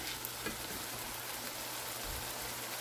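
Bitter gourd and egg sauté in a pan with tomato, a dense, steady, close frying hiss that stays constant throughout with no pauses.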